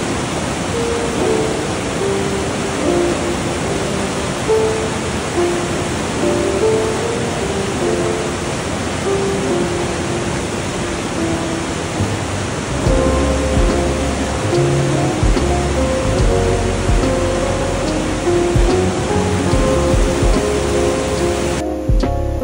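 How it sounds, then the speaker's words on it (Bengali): The Parvati river at Manikaran in Himachal rushing over pebbles and stones, a loud, steady broadband roar of churning water heard up close and continuing throughout. "তো এই পাথর আর জলের সংঘর্ষেই এই আওয়াজটা হচ্ছে"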